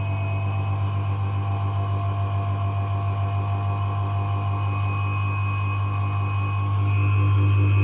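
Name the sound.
universal motor running in lab test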